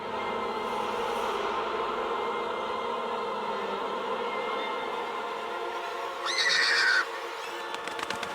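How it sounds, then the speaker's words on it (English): A video-game horse neighs and whinnies loudly against a steady background drone, followed by a brief higher, sharper call near the end. "Why do they sound like a horse being dragged away?"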